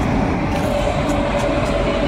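Amrit Bharat Express, a new inaugural Malda Town to SMVT Bengaluru service, pulling into Farakka Junction station: a steady, loud broadband rumble of rolling train noise with a faint tonal hum, continuous throughout.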